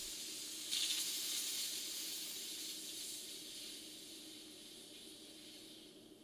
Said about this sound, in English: open the bleed screw, draining pressure from the filler assembly